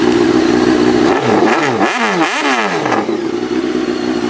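A Honda CBR 929 sport motorcycle with its original factory exhaust idles loudly up close, then revs in several quick throttle blips that rise and fall before settling back to a steady idle.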